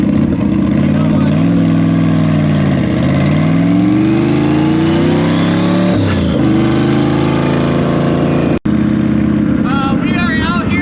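A manual-transmission car engine works through rush-hour traffic, revving up in rising sweeps that drop back at each gear change, loud and close-up with a few shifts in a row.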